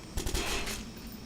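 A short, muffled burst of rapid gunfire in the video game Watch Dogs, a few quick cracks followed by a sustained rumble, heard at a distance.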